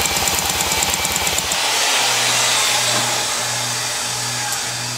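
A Johnson 15 HP outboard motor with a suspected cylinder compression problem runs up close and loud, its harmonic drone steady at first, then shifting to a lower, pulsing rhythm for the remainder.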